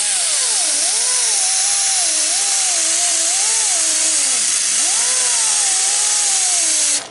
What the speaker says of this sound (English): I need an air grinder with a little bit more balls to it